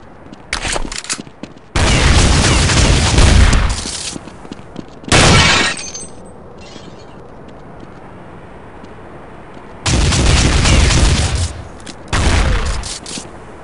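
Counter-Strike 1.6 gunfire on a back alley hostage rescue map, loud bursts of rapid automatic fire and single shots in several separate volleys with quiet gaps between them.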